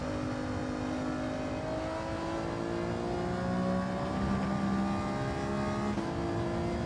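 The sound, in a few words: race car engine revving in a racing video game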